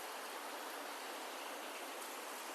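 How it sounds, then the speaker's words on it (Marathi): Heavy monsoon rain pours down outside a home gallery, a dense, even hiss of water with no breaks, close and fairly loud, and no voices. "जबरदस्त पाऊस पडतोय"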